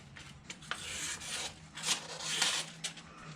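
Knife blade stroked on a diamond sharpener, close and quiet, several uneven gritty rasping strokes in quick succession.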